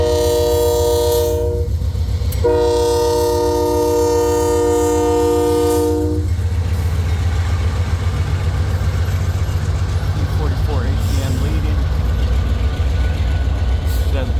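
A Union Pacific freight train with at least three Norfolk Southern locomotives rumbles past close by, its horn blaring in two long blasts before the heavy rolling and clatter of railcars continues.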